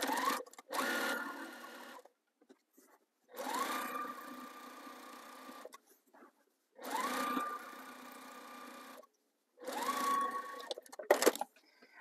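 Sewing machine stitching a quarter-inch seam on quilt binding, four separate runs of steady mechanical whirring with silent pauses between them.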